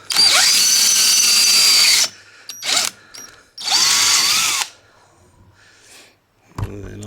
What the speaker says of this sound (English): what I did was I ended up drilling the other hole